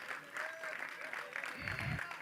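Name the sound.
audience applause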